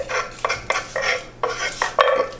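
A knife cuts through the top of a garlic bulb on a board, producing a quick series of close, crisp chopping taps in an uneven rhythm, four or five strikes in total.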